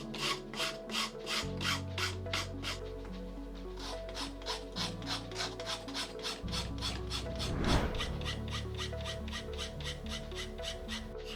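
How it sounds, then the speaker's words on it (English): Steady rhythmic rasping of sandpaper shaping the wooden bulkheads of a Viking longboat model, close by, with repeated back-and-forth strokes over a low background hum. "Here, I'm sanding the bulkheads to the right shape so the hull planks can fit snugly."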